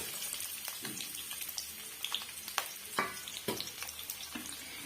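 Sliced onions sizzle and crackle in hot oil, with scattered pops and soft scraping as they are stirred in a pan, moderately quiet.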